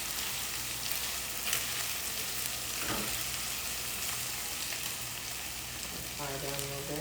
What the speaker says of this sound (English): Now I'm going to add a teaspoon of minced garlic. Let's cook for a minute.